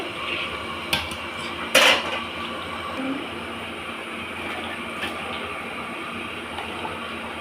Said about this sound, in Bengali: এই কন্টেনারটায় আমি আঠাশ জনের পটল আলুর তরকারি তুলছি